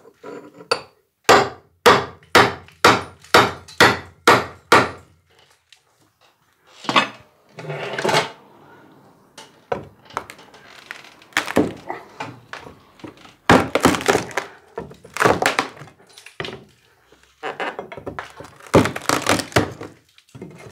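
Wooden floor planks from a raised double floor are pried and knocked apart with a rapid run of sharp, loud thunks and hammer blows. Pauses, cracks and creaks of splitting wood follow, then more irregular bursts of heavy blows, close by.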